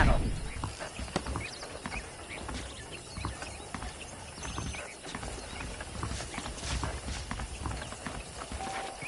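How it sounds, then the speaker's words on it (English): A horse's hooves in Red Dead Redemption clip-clop in a steady walking rhythm, close and moderately loud, with saddle creaks and a voice talking over them. "I picked out a fine horse for you"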